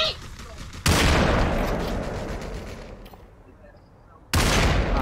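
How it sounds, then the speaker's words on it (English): Bursts of video game gunfire during an online shooter match, a loud rapid volley cutting in, fading into a rumbling tail, then another loud burst near the end. "Yeah, I'm shooting at him."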